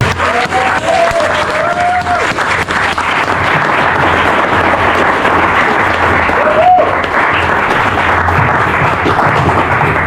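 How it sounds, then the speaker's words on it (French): A crowd applauds loudly and continuously, with scattered cheers and whoops rising above the steady clapping. "merci de faire un maximum de bruit pour Alain, s'il vous plaît."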